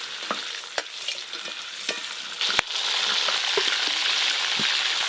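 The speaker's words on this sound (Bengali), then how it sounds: "দই পটলের জন্য তেল গরম হয়ে গেছে, গোটা গরম মশলা দিয়ে দেবো।" Whole garam masala tossed into hot oil for doi potol: a few light clicks and taps, then a loud, steady crackling sizzle bursts up close and holds.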